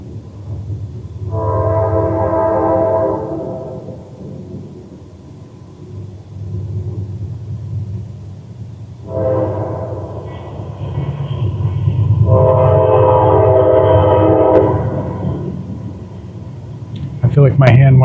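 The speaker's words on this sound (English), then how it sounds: "Here goes the ghost train again." A train rumbles past near Barrel Run Creek in Rootstown, Ohio, its horn sounding in three long blasts over a steady low rumble, with a voice talking faintly underneath.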